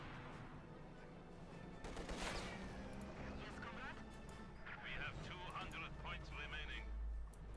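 MG-34 machine gun fire in the Company of Heroes 2 video game, faint rattling bursts and distant explosions within a low battle din.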